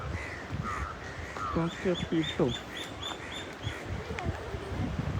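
Crows caw in a short series of harsh, repeated calls outdoors at Mahabalipuram, heard over a steady background while people talk nearby.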